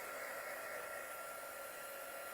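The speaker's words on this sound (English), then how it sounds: "I'm going to hit this with our heat tool real quick" A handheld craft heat tool blowing hot air over a freshly applied coating, a steady close-up whooshing roar of air with no change across its short span.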